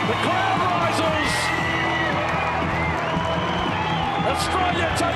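A stadium crowd at a field hockey match roars and cheers steadily after Australia scores a goal, with whoops rising above the dense, loud wall of noise throughout.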